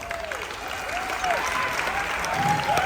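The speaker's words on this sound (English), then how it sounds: "Give yourselves a round of applause for that." Audience applause at a Carnival Dream cruise ship diamond and platinum party, a steady wash of clapping from a crowd with some voices mixed in throughout.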